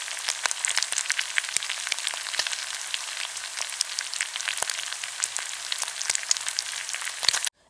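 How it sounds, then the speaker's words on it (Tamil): Chicken pieces fry in hot oil for a restaurant-style chicken roast, giving a steady, fairly quiet crackle of tiny pops and spits throughout, with no one talking. "இப்போ ஒரு பகுதி நல்லா வெந்ததும் திருப்பி போட்டு எல்லா சிக்கனையும் ஃப்ரை பண்ணி எடுத்துக்கலாம்."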